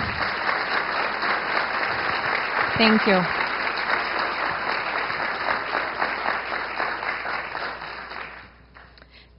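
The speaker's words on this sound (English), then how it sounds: "Will you give him a round of applause?" A round of applause from the audience at a state representative candidates forum, dense and steady for about eight seconds before tapering off, with a brief voice of thanks partway through.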